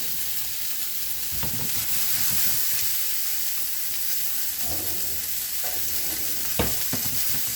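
Steak medallions and peppers fry in hot oil with a steady, loud sizzle and hiss that runs throughout, broken by a few soft clinks and scrapes of utensils against the pan.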